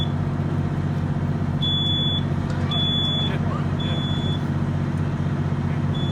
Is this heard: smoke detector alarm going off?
yes